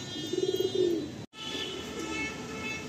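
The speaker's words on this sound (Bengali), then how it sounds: "এই একটা পায়রা দেখাচ্ছি আপনাদের।" Pigeons of the Giribaj Kalasabuj breed coo in an old pigeon loft in Kolkata: a short run of soft, throbbing coos near the start, then a steady quiet hiss with no further calls.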